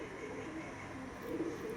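Pigeons cooing softly at a pigeon race held by the Shantipur Pigeon Club, a faint, continuous murmur of calls with no voices over it.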